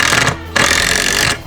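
A power drill pre-drills holes during a gate installation, whirring loudly in two close bursts with a brief pause between them.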